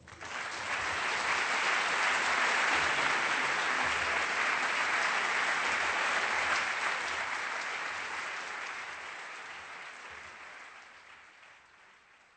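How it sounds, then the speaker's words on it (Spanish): Warm audience applause welcoming speakers at a lecture event in Bilbao, a dense sustained ovation that swells quickly, holds strong for several seconds, then gradually fades away; no talk over it. "me gustaría que dierais la bienvenida con un caluroso aplauso"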